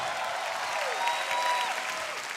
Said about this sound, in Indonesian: Oke, tepuk tangan sekali lagi untuk Babe!